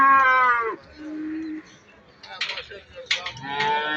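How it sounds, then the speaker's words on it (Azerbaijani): Cattle at a livestock market in Barda bellow in long, loud moos, one at the start and another at the end, with a quieter low call and muffled crowd noise between them. "Sonra ucarda camış 40 baş və inəkli 60 neçə baş heyvan olur."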